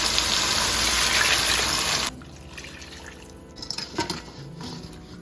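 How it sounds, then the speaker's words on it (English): Two cups of water pour steadily into a cooking pot of chopped peppers and tomatoes for about two seconds, a loud rushing splash, then stop, leaving faint clinks and drips. "To this, I'm gonna add 2 cups of water."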